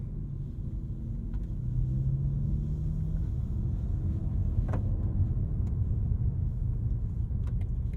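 A BMW M4 CSL rolls over a cobblestone drive, its engine a steady low rumble inside the cabin with a faint thump from the uneven surface, constant and moderately loud.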